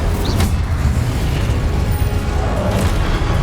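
An Incendio fire spell is cast in Hogwarts Legacy amid combat, with a loud sustained booming rumble and brief bursts, dense and continuous.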